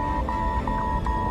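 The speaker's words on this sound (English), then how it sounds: "an alarm begins to sound. It signals the complete shutdown of the autopilot." Autopilot disconnect alarm sounding in an airliner cockpit, a steady piercing electronic tone with faint chirps pulsing over it, running continuously above low rumbling background noise.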